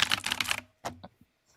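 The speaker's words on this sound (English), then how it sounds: "am I the only one to hear my this mechanical keyboard ASMR?" Rapid clatter of mechanical keyboard keys up close, then a few isolated clicks trailing off into quiet.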